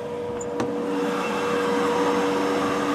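A steady, loud whooshing drone from the electric cooling fan running under the bonnet of a BMW E36 converted to electric drive, a constant airy roar with a faint tonal hum throughout and no talk.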